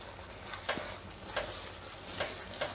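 Spices cook in hot oil in a pan for a chickpea curry gravy, sizzling steadily with a few sharp stirring scrapes and clicks spaced through the sizzle.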